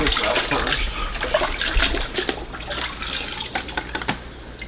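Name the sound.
washing out coarse filter pad under running water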